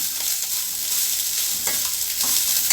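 Coriander stems sauté in a pan for a hotel-style spicy coriander chutney, giving a steady close sizzle with light stirring scrapes and small clicks throughout, no voices.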